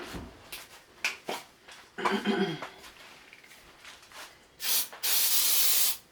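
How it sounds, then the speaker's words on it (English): Short bursts of aerosol spray hiss in a kitchen during bread pudding making, a brief one early and a long loud one near the end, with clinking kitchen sounds and quiet talk around them. "Spray."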